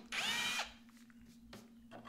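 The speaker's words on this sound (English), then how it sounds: "John used the leg as a guide and drilled a hole through the frame" A power drill bores a hole through a wooden cornhole board frame in one short, high whirring burst, then falls away to quiet workshop noise with a couple of faint knocks.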